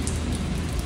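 Steady rain falling outdoors, a dense continuous hiss of drops close by with no voices.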